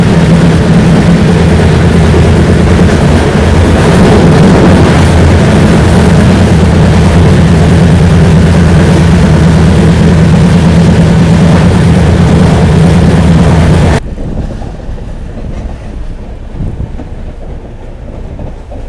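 Narsapur–Dharmavaram train running at speed, a loud continuous engine drone and rolling rumble that cuts off abruptly near the end, leaving quieter background noise.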